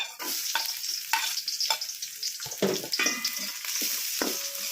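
Onions sizzling in a pan alongside golden-browned garlic and ginger for a tilapia dish: close, uneven frying hiss broken by repeated stirring scrapes and clatters of a spoon against the pan, no voices.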